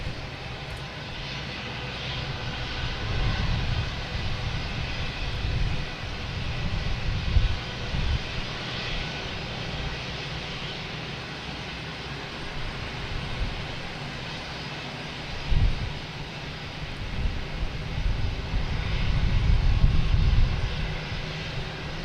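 Airplane engines roar continuously at Boston Logan Airport, a loud broad rumble that swells and eases as aircraft taxi and move nearby, with no one talking.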